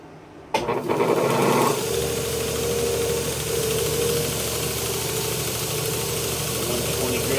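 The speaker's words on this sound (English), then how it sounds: "I'm actually going to switch out to a little bit higher grit sanding belt there" A belt sander fitted with a higher grit belt starts up and runs shaping a chef knife's wooden handle, a sudden onset followed by a steady loud whirring drone close by.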